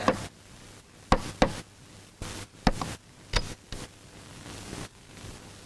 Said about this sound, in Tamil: கதவு யாரா தட்டுறாங்க?